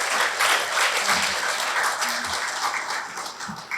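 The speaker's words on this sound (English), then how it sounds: "they all deserve another round of applause" A room full of people applauds steadily at a school graduation, a dense even wash of clapping that holds at the same level throughout.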